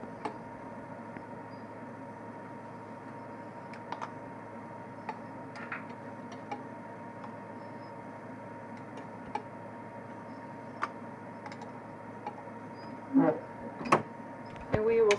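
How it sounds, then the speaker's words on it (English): A laboratory centrifuge spins tubes at 3400 RPM, giving a steady, faint mechanical hum with a constant tone, soft ticks scattered throughout and a few louder clicks near the end. "we will centrifuge them for 1 minute on 3400 RPM"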